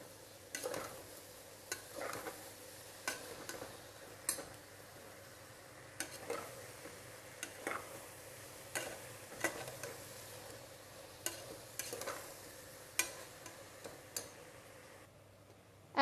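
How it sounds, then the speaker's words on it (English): Fried brinjal, tomatoes and masala paste get stirred in a pan, a soft background sizzle broken by regular scraping strokes of the spoon, repeated every second or so. "and give a good stir."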